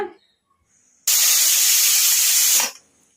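A single sharp burst of high, hissing pressure cooker whistle lasts about a second and a half, starting and cutting off abruptly, with near silence around it.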